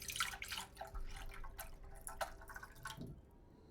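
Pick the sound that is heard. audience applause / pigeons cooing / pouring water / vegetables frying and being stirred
pouring water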